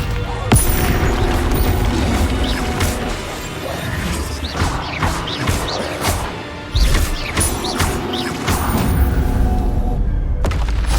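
Incendio fire spells blast repeatedly in Hogwarts Legacy combat, loud crashing bursts and whooshes arriving in quick succession over a rumbling game soundscape, with short lulls between impacts.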